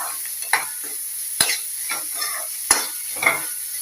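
Beetroot stir-fry with turmeric is stirred in a pan, a soft sizzle running under repeated scraping strokes and a few sharp clicks of the spoon against the pan, heard alone and close.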